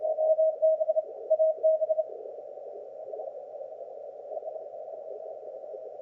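A Morse code CW signal from a Panama amateur radio station comes through as a steady mid-pitched tone keying in short dots and dashes for about two seconds, then fading into a continuous faint hum with irregular weak keying under band noise.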